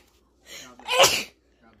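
A single close sneeze during a Christmas gift opening, a short inhaled build-up followed by one sharp, loud burst, then quiet with a faint voice at the very end.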